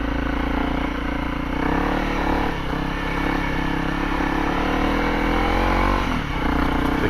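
A 2023 Honda CRF300L, a single-cylinder dual-sport motorcycle, pulls away and accelerates, its engine note steady and loud with rising revs, heard close up throughout with some wind and road noise.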